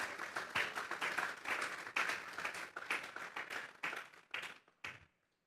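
Congregation clapping at a Spanish-language church service in rhythmic unison bursts, strong beats accelerating slightly before stopping abruptly, followed by silence.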